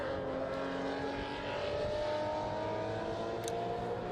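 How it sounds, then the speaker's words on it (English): A race car in Brumos colours passes at Estoril, its engine whine rising steadily in pitch at a moderate distance, loud and continuous against track ambience. "Car in our picture going through, obviously in the famous Brumos colours."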